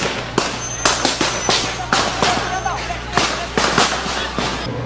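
Sharp gunshot cracks ring out repeatedly at irregular intervals over a loud, noisy crowd outdoors, some near and some farther off.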